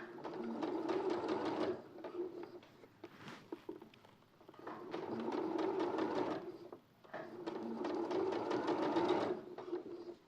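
A sewing machine stitches fabric around a corner in three steady runs, with brief pauses between them while the work is turned. The motor whirs close by, with no speech over it.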